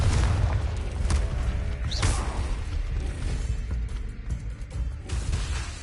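An explosive Confringo spell is cast in the Hogwarts Legacy video game, with a heavy boom and crashing bursts over a dense, continuous rumbling din of combat and a few sharp whooshing hits.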